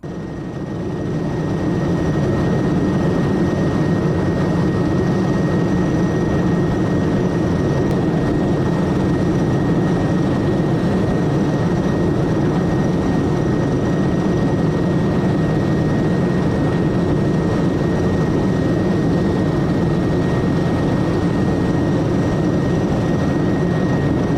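Navy rescue helicopter flying over the sea toward stranded surfers, a loud, continuous rotor and engine roar that rises in the first seconds and then holds steady; no voices.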